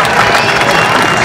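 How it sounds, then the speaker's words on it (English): A crowd at an X Games legends skateboarding demo applauds and cheers for Tony Hawk, a loud, continuous wash of clapping with voices mixed in. "How about a round of applause for Tony Hawk?"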